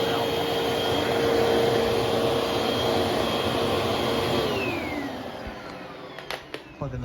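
A TTI Hoover Windtunnel vacuum cleaner running indoors, a loud steady motor whine and airflow roar that holds level, then fades near the end with a few knocks and clicks.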